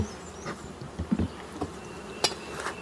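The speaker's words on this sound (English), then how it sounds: "the first thing I initially look is to see how many bees start coming up out of the hole" Honeybees in a hive under the inner cover give off a faint, diffuse hum, broken by several soft knocks and a sharp tap, heard close with no talking.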